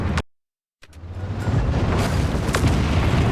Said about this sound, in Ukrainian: точна влучна гармата, перезарядка як з кулемета